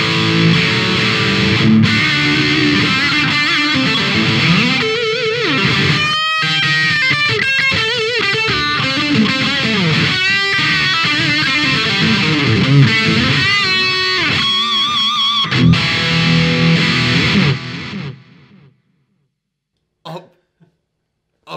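A heavily distorted electric guitar through a Thomas Blug distortion pedal plays loud, busy riffs and chords for about seventeen seconds, then cuts out, leaving near silence with a few faint blips.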